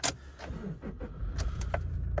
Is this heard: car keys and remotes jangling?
yes